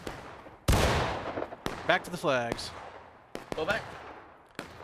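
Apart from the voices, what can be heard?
gunfire in War of Rights video game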